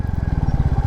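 A 2024 Royal Enfield Classic 350 single-cylinder with ABS braking hard on the front brake from about 50–60 km/h, its engine thumping in a steady, rapid low pulse, close and loud.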